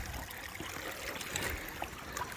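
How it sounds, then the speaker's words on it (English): Water splashes and trickles into a gold pan beside a creek, a steady close wash of running water with small splashes throughout. "I'll get some water, chuck her in my pan here"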